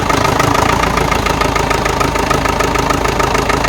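A modified Mahindra jeep engine idling, a loud, steady, close-up rumble with a continuous low throb and an even mechanical chatter throughout, with no speech over it.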